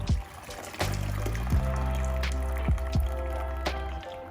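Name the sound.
straining cooked pasta and vegetables from the pot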